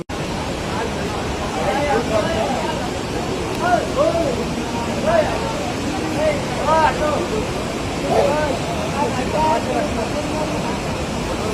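Mountain water rushes steadily at Yamunotri, a broad continuous roar that fills the scene from start to finish, with faint voices murmuring beneath it.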